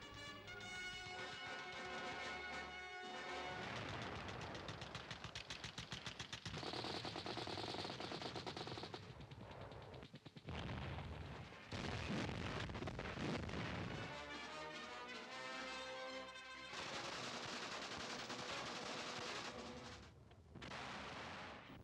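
Artillery salvos and rapid machine-gun bursts from a 1940 colour wartime film, dense and loud throughout with heavy booms and rattling volleys overlapping, no talking.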